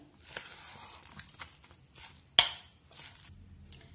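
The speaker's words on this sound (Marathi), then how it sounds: "आता हे सगळं मिश्रण व्यवस्थित ढवळून घ्यायचंय।" Utensil scraping and clinking in a bowl while a vada mixture with salt and lemon juice is stirred, with a sharp clank midway, close and alone.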